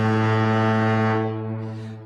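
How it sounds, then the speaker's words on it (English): A deep foghorn sound effect blares as one sustained, loud tone of about two seconds with rich harmonics, tapering slightly at the end, with no talk over it. "We'll do the foghorn."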